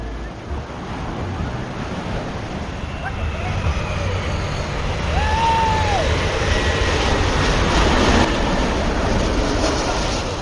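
An airplane passes over a tropical Caribbean shoreline, its broad engine roar building steadily and peaking late while surf and wind wash continuously underneath.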